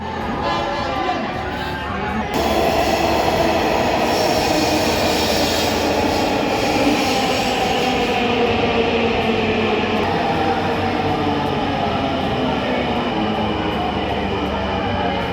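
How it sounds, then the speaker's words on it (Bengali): A Dhaka metro train pulls into the station, its broad, steady rumble and rolling rail noise swelling in close and loud, mixed with the murmur of a waiting crowd. "ফাইনালি সকল অপেক্ষার অবসান ঘটিয়ে মেট্রো এসে আমাদের চোখে ধরা দেয়"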